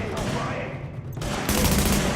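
Gunfire from cover in The Division, the video game, loud bursts of shooting packed into a couple of seconds with a voice talking over them.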